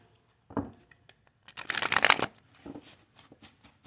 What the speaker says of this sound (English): Let's overhand them a bit. This is how I shuffle my cards